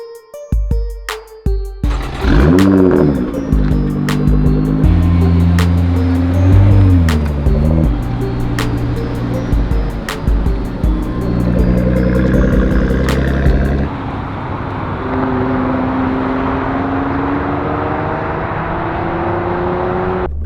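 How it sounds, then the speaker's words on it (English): A Nissan GTR 50 by Italdesign, a 710 hp sports car, drives with a loud, close engine note that rises and falls through revs and gear changes, steady throughout with sharp clicks early on. "I cannot believe right now that I get to not just shoot it, but I get to drive the GTR 50."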